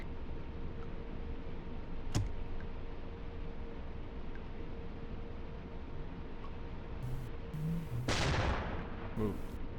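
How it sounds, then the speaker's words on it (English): Enemy gunfire aimed at a U-boat in a submarine video game: a sharp single shot, then a loud burst of rapid fire near the end, over a steady droning background. "He's shooting at us."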